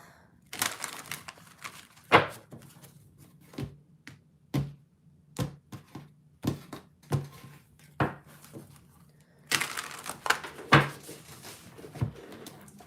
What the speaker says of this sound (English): I have to give these a good shuffle.